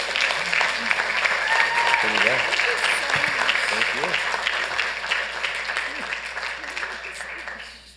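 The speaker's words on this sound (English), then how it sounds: "Please give a round of applause for Sarinana's Tamale Factory" A city council chamber audience in Santa Ana claps for a local tamale business, a sustained round of applause with a few voices talking over it before it fades out.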